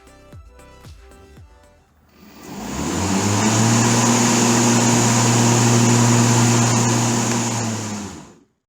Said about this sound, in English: Now I'll turn on the blades so you can hear what they sound like.